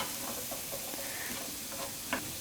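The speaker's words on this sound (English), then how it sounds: "we're gonna saute, this is about half an onion right here" Half an onion sautés in a pan over medium heat, giving a soft, continuous sizzle with scattered light ticks and pops and one brief hissing flare near the end.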